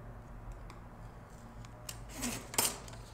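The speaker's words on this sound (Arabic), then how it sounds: "كل ما تلاقي نقاط اعملي ثانية الخط قطع او قص زي ما انا قصيت كده على كل الخطوط" Scissors cutting paper along the lines of a pop-up T. rex design, a few quiet snips building to a sharper crisp cut near the end, close and alone.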